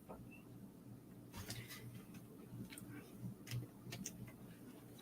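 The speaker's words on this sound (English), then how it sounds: "I'm going to use my arrow keys to move it over." Arrow keys on a computer keyboard are tapped in a quick irregular series of light, faint clicks over a quiet room background.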